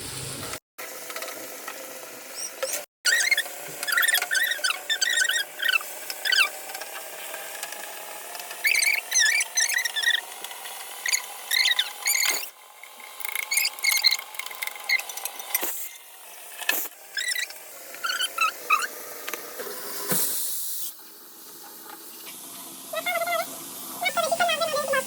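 Tomato and chilli hit a hot pan, giving a loud, continuous crackling sizzle dotted with sharp pops and a few clicks and clatters throughout.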